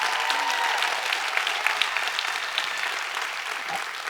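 An audience of teachers at an education summit claps in a dense, fairly loud round of applause that fades slightly toward the end, with no voices standing out.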